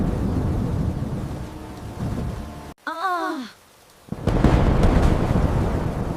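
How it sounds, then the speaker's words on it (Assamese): A loud roar of storm wind and rumbling thunder, broken by a short lull where a voice lets out a brief groan, then the roar returns. "বতাহ ধুমুহা আহিছে, লাহে লাহে জোৰকৈ বলিছে, গছে পাতে শিলি গৈছে"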